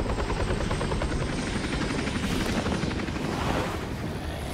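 A loud, steady helicopter drone in the video game Batman: Arkham Origins with a fast rotor chop, close and continuous throughout, with no talking.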